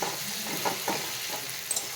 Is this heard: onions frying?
yes